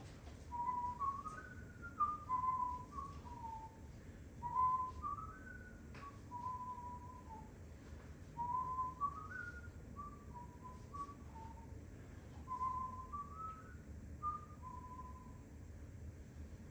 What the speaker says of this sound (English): Simon whistled to fill in the silence